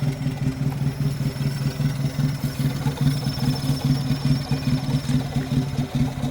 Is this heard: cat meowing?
no